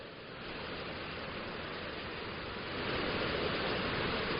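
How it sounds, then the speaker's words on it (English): Weir on the River Wharfe, a steady broadband rush of falling water that swells slightly louder partway through, with no voices. "about a quarter of a mile from the bridge is a weir, which you might be able to hear in the background"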